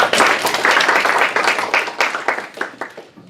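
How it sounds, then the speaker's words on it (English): An audience applauds a speaker being introduced, a dense burst of many hands clapping that starts loud and gradually thins and fades over a few seconds. "So if you could please give her a big round of applause, Melanie Feldman."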